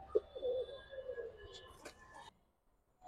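Pigeons in a loft giving soft low cooing calls, a few quiet coos close by with some faint rustling, ending in near silence.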